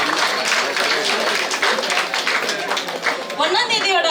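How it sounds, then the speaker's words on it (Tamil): A crowd applauds a winner at a Pothys saree festival prize-giving ceremony, dense clapping filling the room with a voice speaking over it. "கைத்தட்டுகள் பலமா கொடுக்கலாமே."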